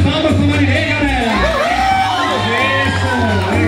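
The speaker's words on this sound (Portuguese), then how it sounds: "E as palmas para Marilei, galera" A pageant crowd cheering and whooping for a contestant, loud and continuous with shouts and yells layered over a steady low hum, music-like tones and voices mixed in throughout.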